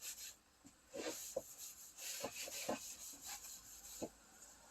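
A cloth works food-safe finish into a wooden cheese board with soft, quiet rubbing strokes, some briefly firmer, against a faint hiss.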